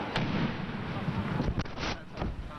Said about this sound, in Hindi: फिर धमाका हुआ है